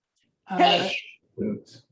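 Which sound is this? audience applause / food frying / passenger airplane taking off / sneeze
sneeze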